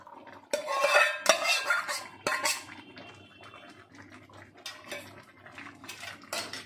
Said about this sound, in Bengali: এবার আমি চিংড়ি মাছটা ঢেলে দিয়ে দিচ্ছি।